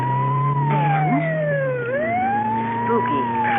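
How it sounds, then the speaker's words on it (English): An ambulance siren wails steadily in a rising and falling sweep as it passes, loud and continuous, with road and engine rumble beneath it in a radio drama scene. "You know, that's the 4th ambulance in the last half hour."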